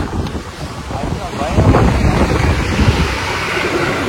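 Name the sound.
strong wind blowing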